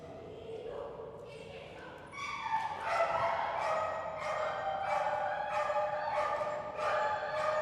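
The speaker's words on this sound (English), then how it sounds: "I don't think you're going to get it by just barking at it" A dog named Jet barks repeatedly in a steady rhythm, loud and close, with a person speaking briefly before the barking starts.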